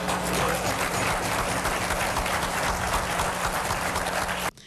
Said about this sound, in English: That fact garnered applause